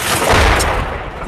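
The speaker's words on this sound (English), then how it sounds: "Mortars start landing around us." Mortar rounds landing nearby during combat at a base in Shan State, Myanmar, a loud, close, booming rumble that swells and rolls on for about a second with no talk.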